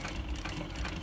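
A SMITCH 0303 walking foot sewing machine stitches in reverse with a close, steady, rapid mechanical chugging hum throughout.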